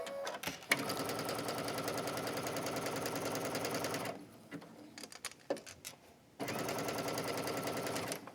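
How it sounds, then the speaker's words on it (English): A sewing machine stitches a knit dress, running in fast rhythmic bursts of close mechanical chatter, pausing briefly with a few clicks in the middle before starting up again. "I'm just going to stitch down this side."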